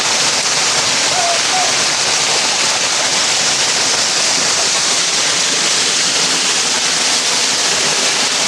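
A roaring waterfall on Dead Man's Branch trail, a loud, dense, continuous rush of falling water heard up close and steady throughout.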